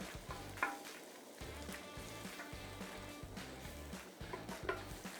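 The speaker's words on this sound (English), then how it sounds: "Then use a wooden stick to stir gently." Beef being stirred gently in a pot with a wooden stick, a steady sizzle with soft rhythmic scraping and thumps repeating at a regular pace, fairly quiet and close.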